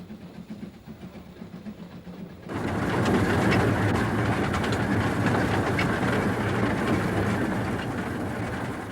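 Narrow-gauge Welshpool & Llanfair Light Railway train, 2 ft 6 in gauge, running between hedges: a quieter rumble first, then a sudden louder steady roar of wheels and carriage rattle with rhythmic clatter, close and continuous.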